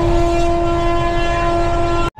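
The 13115 Humsafar Express arrives at New Jalpaiguri station with a loud, sustained horn blast held over rolling rail rumble, cutting off abruptly at the end.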